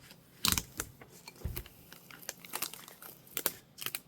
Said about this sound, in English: So you should just be able to peel this off.